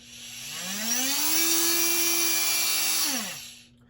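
A Festool OSC 18 Vecturo oscillating multi-tool spins up, holds a loud, steady whining buzz for a couple of seconds, then winds down, heard close up with no talk.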